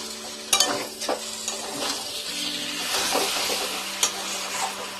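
Mutton pieces are stirred and fried in a spice masala in a pan, giving a steady close sizzle with repeated scraping stirs.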